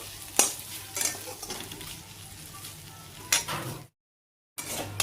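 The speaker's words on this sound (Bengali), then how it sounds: "তো এই যে আমার এখানে শাক ভাজা প্রায় হয়েই গেছে, এখন নামিয়ে ফেলবো।" Leafy greens (saag) frying in a pan, with a steady soft sizzle broken by a few sharp scraping stirs of a utensil against the pan, then a brief silent gap before the frying resumes.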